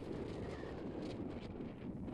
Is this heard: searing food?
no